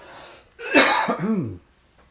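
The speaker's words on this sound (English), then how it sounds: "got a cough this morning for some reason" A single harsh cough bursts out close by, trailing into a short throaty rasp and then quiet.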